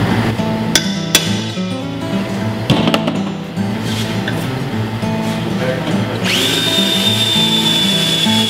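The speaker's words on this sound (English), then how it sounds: "Put in a 10 millimeter hole." A power drill bores a 10 millimeter hole in a car suspension arm near the ball joint, whirring steadily up close amid clanks and knocks of tools, then rising into a sustained high-pitched whine.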